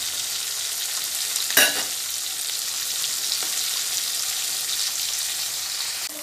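A thin fish curry of small mola-type fish with sour green mango bubbles in a pan, giving an even hiss at moderate level with one sharp clink near the start.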